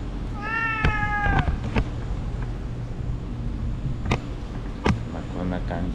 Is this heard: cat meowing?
yes